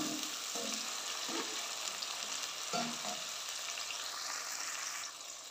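Tomatoes frying in a pan for a dhaba-style gobhi sabzi, a loud continuous sizzle close up with a few low stirring bumps, no voices.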